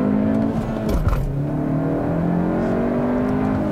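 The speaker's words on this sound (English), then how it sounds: "Just want to see where I can launch this car where it actually gives me a decent launch." A 2022 Hyundai Elantra N-Line launches hard from a standstill. A brief stutter as power is cut gives way to a rising, whirring engine note that climbs steadily through the acceleration, heard up close from inside.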